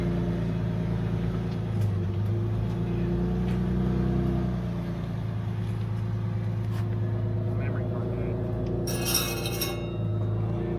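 An off-road vehicle's exhaust gives a steady low engine rumble throughout, loud and close, with a brief clink near the end.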